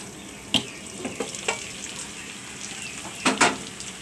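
Tilapia fish frying in oil, a steady close sizzle with scattered crackles and a few sharper spits, the loudest pair near the end, with no talking.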